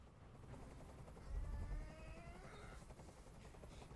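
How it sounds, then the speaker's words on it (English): A helicopter in the video game Detroit: Become Human thrums overhead with rapid rotor chopping and low engine rumble, swelling briefly louder before settling into a steady quieter drone. "I can't stand that noise anymore. Tell that helicopter to get out of here."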